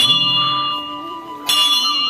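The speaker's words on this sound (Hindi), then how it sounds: "घंटी" A temple bell at a Hanuman puja rings with a bright, sustained metallic tone, struck again near the end so the clang swells and rings on.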